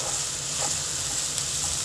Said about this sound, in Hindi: प्याज को थोड़ा भून लेंगे, इसे हमें एकदम लाल नहीं करना है